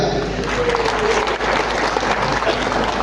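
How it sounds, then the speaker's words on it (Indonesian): Dense applause from a crowd fills the whole stretch, steady and loud, with no voices standing out. "Tepuk tangan untuk panitia"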